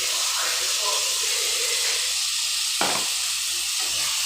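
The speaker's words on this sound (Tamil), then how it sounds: "இப்போ அரைச்ச தக்காளி விழுது சேர்த்துக்கலாங்க" Ground tomato paste sizzles as it hits hot frying masala for a vegetable biryani, a loud steady hiss filling the whole moment, close and continuous with a brief stirring scrape.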